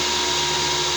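An electric blower, apparently tied to an IGBT or MOSFET controller, runs with a steady, loud, broadband whir that holds at an even level throughout, with no one talking.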